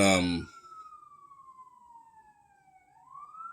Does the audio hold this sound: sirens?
yes